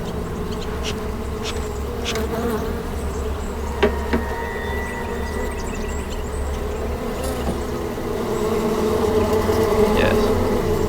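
Bees buzz steadily around a tampered, dilapidated beehive, a continuous drone with a few faint knocks over it.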